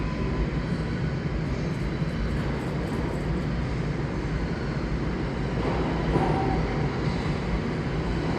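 A New York subway train pulls slowly into the station in the early morning, a steady broadband rumble and rolling roar filling the platform, swelling slightly near the end with faint higher squeals.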